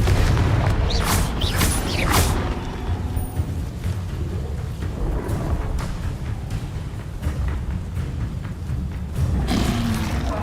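Explosive Confringo spell bursts in Hogwarts Legacy, heard as loud rumbling booms and crackling blasts layered over a continuous dense game soundscape.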